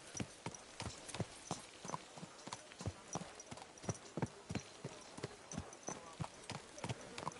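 Horse hooves clip-clop in a steady walking rhythm in the medieval role-playing game Kingdom Come Deliverance 2, with sharp, evenly spaced strikes in the foreground and a faint voice in the background.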